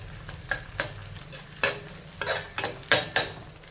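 Curry leaves drop into onions frying in oil for a chicken curry, giving a sizzle and a run of sharp spoon-against-pan stirring scrapes, close and fairly loud, with no talk.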